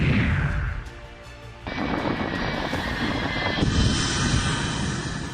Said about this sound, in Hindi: अमेरिका से सैन्य मदद लेकर इजराइल पहुंचा कार्गो प्लेन